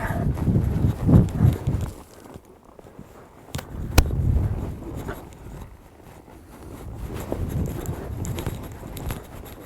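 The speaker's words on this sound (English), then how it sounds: "I can feel this horse real anticipating." Horse hooves walking under a rider during cowboy horse training, a steady clip-clop of footfalls, fairly close, with dull thumps and some rustle from tack, no talking.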